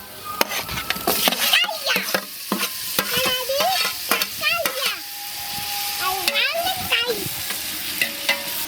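Ginger garlic paste and tomato frying in a pan for mushroom biryani sizzle steadily, with repeated scraping and clattering stirs over the hiss.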